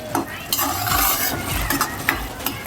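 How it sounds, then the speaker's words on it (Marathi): Masala for a restaurant-style dudhi kofta curry frying in oil while a spoon scrapes and stirs it in the pan, giving a steady close sizzle broken by repeated clinks and scrapes; no voices. "तर आता ह्याला आपण तेल सुटेपर्यंत भाजून घेऊया"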